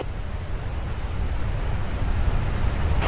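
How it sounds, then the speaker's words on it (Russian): A large waterfall in a river gorge near the confluence of two rivers gives a steady, full broadband roar that stays loud and unbroken throughout, with no voices. "Вот он, величественный водопад."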